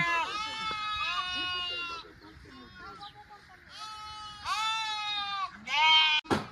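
Sheep bleat repeatedly at close range, several drawn-out wavering calls in bursts with short gaps between them. People talk in the background.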